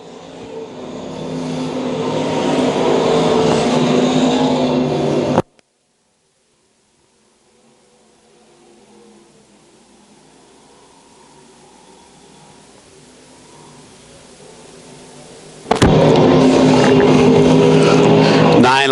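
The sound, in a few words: stock cars racing on the speedway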